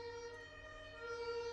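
Ambulance siren with flashing blue lights, a steady loud wail holding one strong tone with bright overtones, continuous and fairly close, with no voices.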